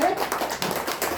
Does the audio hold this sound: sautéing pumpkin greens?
no